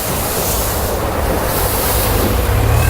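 River water beside a hotel in Bangkok washes and laps close by in a steady, loud rush, with wind buffeting the microphone throughout.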